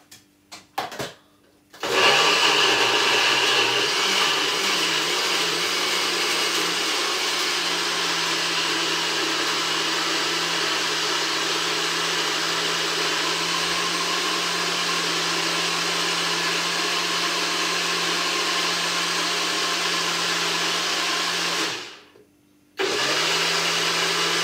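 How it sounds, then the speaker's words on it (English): A blender whirs loudly and steadily for about twenty seconds while blending June plum juice. It starts after a few short knocks, dips briefly near the end, then starts up again. No one talks. "So let's blend up this."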